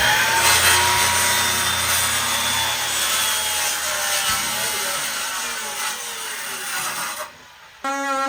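A saw cuts steadily through a crowned floor joist board under flooring, a continuous rasping grind running for several seconds up close before it stops abruptly near the end.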